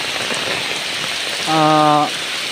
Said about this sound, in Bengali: দেখেন পুকুরের মধ্যে বৃষ্টিটা ভালো করে বোঝা যাইতেছে